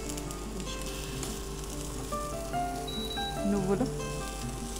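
Ingredients for veg spring rolls frying in a pan, a steady close sizzle running throughout with a low hum beneath, and a voice speaking briefly over it.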